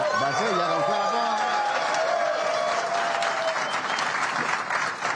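Sustained audience applause at a union town hall, a dense wash of clapping from a crowd that holds steady for several seconds, with a voice talking over the start.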